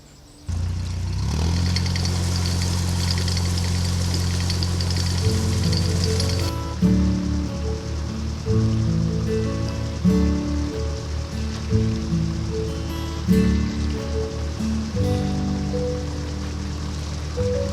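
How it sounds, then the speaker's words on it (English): Steady rain hissing and pattering on a narrowboat canal mooring, with a low engine or machinery drone beneath and intermittent rhythmic knocking, continuous and fairly loud throughout. "And it's already raining."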